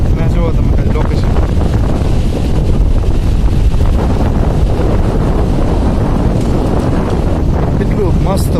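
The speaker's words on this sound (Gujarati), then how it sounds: "કેટલું મસ્ત પવન આવે છે અત્યારે" Strong wind buffets the microphone in a loud, unbroken roar from start to finish, covering the whole open outdoor spot.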